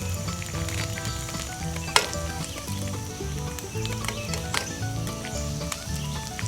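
Corned beef hash and eggs sizzling in a pan over an outdoor campfire, a steady close frying crackle with occasional pops and a sharp clink, while music plays underneath.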